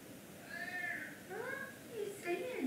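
A Savannah cat at a big cat rescue gives several drawn-out, wavering meows in close succession, fairly loud and near, with no talking over them.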